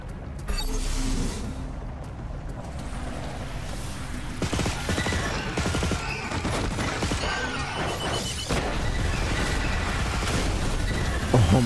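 Pipe bombs go off in the action game Riftstorm among a chaotic run of crashing bursts, booms and rapid clattering impacts that stay loud and dense throughout, layered over game noise.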